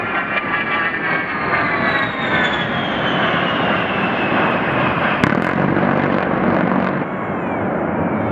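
An A-10 Warthog attack jet sweeps overhead with a loud, continuous engine roar, a rising whine and a sharp crackling burst midway, no voices.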